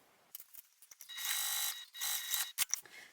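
A sewing machine stitches the bottom seam of a backpack in two short bursts of quick mechanical whirring and clicking, with small taps and clicks between them, close and fairly quiet.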